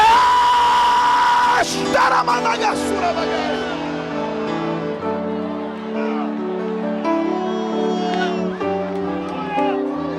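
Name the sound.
congregation shouting a cry of glory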